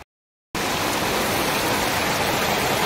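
After a brief silence, heavy rain pours down in a loud, dense, steady hiss that continues without a break.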